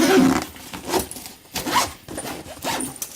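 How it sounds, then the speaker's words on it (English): A bag is zipped up in several quick, close rasping pulls with short pauses between them, crisp and fairly loud in a quiet room. "Get that all zipped up."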